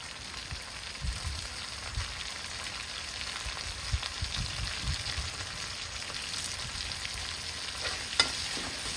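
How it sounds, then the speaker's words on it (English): Curry paste with lemongrass and curry leaves fries in a pan for Malaysian chicken curry, giving a steady soft sizzle with occasional light stirring scrapes, close and fairly quiet, with no speech. "Continue to stir to prevent the curry paste stick onto the pan."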